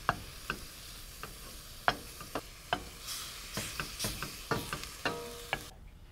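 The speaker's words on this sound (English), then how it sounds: "stir that with a wooden spoon, breaking up the meat a bit as it cooks" Ground beef sizzles in a pan while a wooden spoon stirs and breaks up the meat, giving a soft steady fry punctuated by a dozen sharp scraping taps, close and fairly quiet with no talking.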